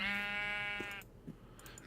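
A single sheep in a Minecraft Feed the Beast modpack gives one clear, drawn-out bleat at close range, followed by faint soft shuffling and quiet background.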